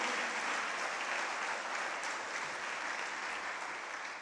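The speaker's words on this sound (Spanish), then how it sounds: "Puedes dar un aplauso a Dios por eso." Applause from a church congregation during a Spanish-language sermon, a steady dense wash of clapping that holds at even loudness for the whole stretch with no voice over it.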